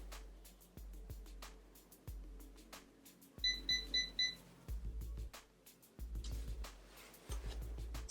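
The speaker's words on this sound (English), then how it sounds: "So I think I have to wait for the beep." A Chi Spin N Curl hair curler gives a short run of quick high electronic beeps in the middle, surrounded by repeated low clicks and handling thumps from the device.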